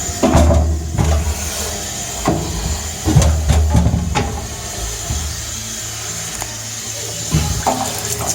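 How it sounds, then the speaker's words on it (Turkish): Pressurized water from a hose flushes through a home central-heating radiator during cleaning, a rough gushing rush that surges and fades in uneven bursts, close and fairly loud. "İyice iki taraftan da tanzikli su verebilirsek bizim için güzel bir temizlik olmuş olacak"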